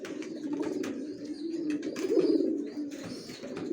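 Young racer pigeons, newly adult Afshan grizzles, cooing steadily in soft overlapping low murmurs, close and continuous, with occasional faint wing flutters.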